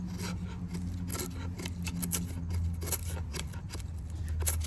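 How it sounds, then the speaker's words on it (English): A Cold Steel GI tanto knife shaves feather sticks from wood, giving a series of close, dry scraping and rasping strokes in an irregular rhythm over a low background hum. "let's see how it does with a little bit of feather sticking here."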